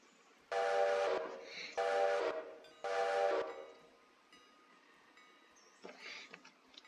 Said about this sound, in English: I got this train running.